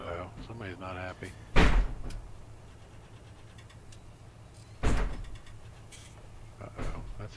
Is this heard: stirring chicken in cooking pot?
no